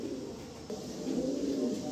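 A pet pigeon kept for sale coos softly nearby, a low, rolling murmur repeating over a quiet background.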